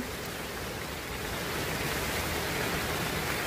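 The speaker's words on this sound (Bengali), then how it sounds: "এই যে দেখেন বাইরে কী পরিমাণে বৃষ্টি হচ্ছে" Steady, dense hiss of heavy rain pouring down outside in Faridpur, constant and loud throughout with no other sounds standing out.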